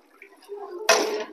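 Water pours suddenly into a bottle for a buoyancy experiment with a ball at its mouth, a loud gushing splash starting near the end after a quiet stretch of faint sounds.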